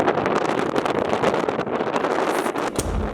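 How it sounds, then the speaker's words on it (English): Strong wind in a snowstorm in southern Spain blasts the microphone as a loud, continuous rushing roar that drops off briefly near the end. "Well, that's way too windy"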